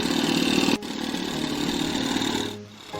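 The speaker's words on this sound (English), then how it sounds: "Listen to that sweet engine roar. That's an OS 26 four-stroke he's running there." OS 26 four-stroke glow engine on a Clancy Mini Bee radio-control model plane at an RC club field, running steadily nearby, with its pitch shifting and the level easing near the end.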